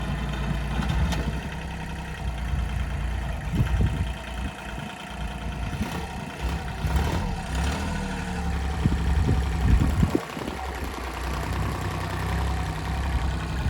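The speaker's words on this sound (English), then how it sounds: "He's using the tractor as a snow plough" A heavy tractor engine rumbles steadily nearby while plowing snow, idling and working with rising and falling load, continuous and loud throughout.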